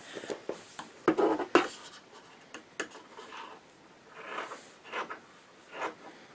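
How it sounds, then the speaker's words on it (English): Scissors trim the corners and cut away bulky batting on a sewn fabric placemat, giving a few close, soft snips and scratchy cuts with quiet pauses between. "I'm just going to trim off the corners and trim some of this bulk out of the way"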